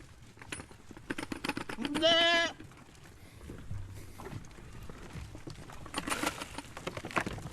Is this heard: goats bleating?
yes